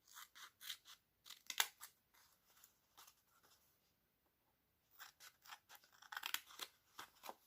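Scissors snip through paper while making envelopes from napkin-decorated pages, coming in quick close bursts of crisp cuts with a pause in the middle, and no voices.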